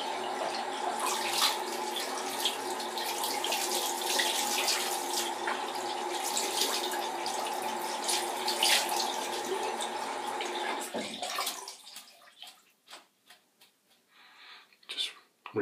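Tap water runs and splashes as a synthetic shaving brush is rinsed, a steady close rush that cuts off near the end, leaving a few scattered drips and handling knocks.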